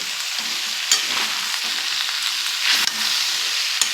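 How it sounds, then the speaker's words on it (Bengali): Fried peas get stirred into mutton mince in a pan: a loud, continuous close sizzle with spoon scrapes and a few sharp knocks against the pan, no talking. "ভেজে রাখা মটরটা দিয়ে একটুখানি নেড়ে করে নেব"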